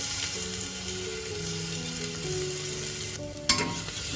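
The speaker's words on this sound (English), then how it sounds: "Once the oil is heated, add finely chopped onion into the oil." Finely chopped onion and ground paste fry in hot oil, a steady sizzle with a sharp clatter of a utensil near the end before the hiss continues.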